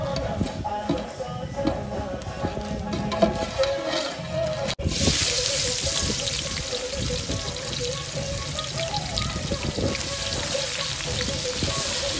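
Onions drop into hot oil in a pan while mutton is cooked for a Raja festival feast, and a loud, steady sizzle suddenly swells and holds, with faint background voices.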